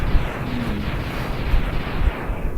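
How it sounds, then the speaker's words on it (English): Mega Man blows up in Mega Man X8, a loud, dense burst of crackling explosion noise that rumbles continuously for a couple of seconds with a few heavier thumps, no voices over it. "Oh no, Mega Man's exploding!"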